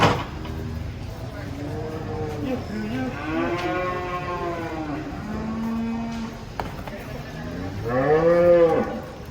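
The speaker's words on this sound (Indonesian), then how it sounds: "kita cari lagi di pasar sapi-sapi turun dari truk." Several cattle unloading from a truck at a cattle market moo in long, drawn-out calls, one after another, with faint background noise between them.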